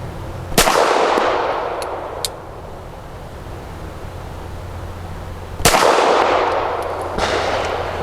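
Two sharp, loud pistol shots from a Canik SFx Rival S ring out several seconds apart, each followed by a lingering outdoor echo and faint clinks in between.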